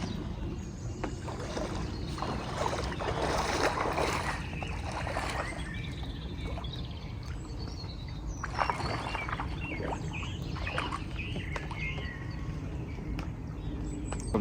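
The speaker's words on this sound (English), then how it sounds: "I'm just going to take the boat down." A boat's motor hums steadily on the water, with faint splashing and scattered brief knocks over a constant low rumble.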